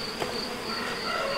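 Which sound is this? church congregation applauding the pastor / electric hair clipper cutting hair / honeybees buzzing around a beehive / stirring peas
honeybees buzzing around a beehive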